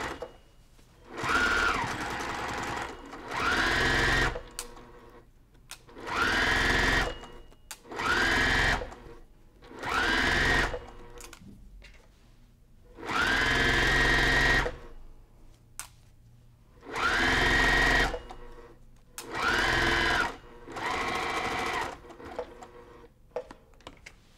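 A sewing machine stitches a ruffle onto a faux pleated pillow made from a jelly roll of fabric strips, running in about nine steady bursts of a few seconds each with short pauses between them, close and clear.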